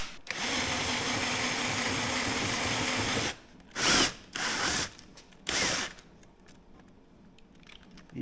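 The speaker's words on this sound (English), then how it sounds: "I'm just going to use a 3/16 and slowly drill them out." Drill with a 3/16 bit boring out rivets on a Harley Davidson Touring saddlebag lid: a long steady whine for about three seconds, then three short loud bursts separated by pauses, close up.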